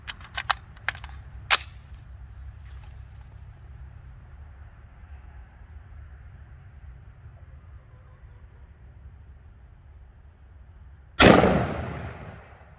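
A single loud, sharp gunshot from a .223 M&P Sport rifle firing a Barnes TSX bullet outdoors at a gel block, with a ringing decay, preceded by a few faint clicks and a low steady rumble.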